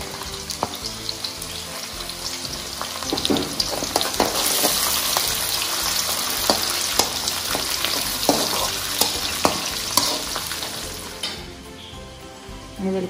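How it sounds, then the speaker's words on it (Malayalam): Garlic fries in hot oil for a hog plum pickle, a loud, dense sizzle with frequent stirring clicks and scrapes that eases off near the end, close up and without talk. "വെളുത്തുള്ളി എണ്ണയിൽ കിടന്നിട്ട് അധികം ആവണ്ട."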